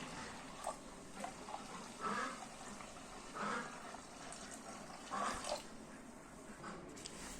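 Water pours into a container, three kilos measured out for making a glycerin gel, a soft continuous splashing stream that swells in several surges, fairly quiet and close, without talk.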